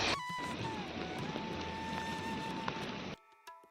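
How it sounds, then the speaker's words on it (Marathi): Steady rain falls throughout, a continuous hiss of drops with a faint tone running beneath, then cuts off abruptly near the end. "मित्रांनो पाऊस चालू झालाय"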